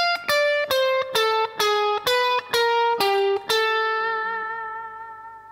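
A jazz fusion electric guitar lick played slowly: about eight clean, evenly spaced picked notes, each cut short, then a final note that rings out and fades, with no talk.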